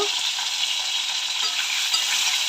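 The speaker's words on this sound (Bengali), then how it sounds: "আলুটা একটু ভাজা করে নেব" Potatoes fry in a pan with kalonji (nigella seeds) tempered in the oil, making a steady crackling sizzle with faint stirring scrapes throughout. No one speaks.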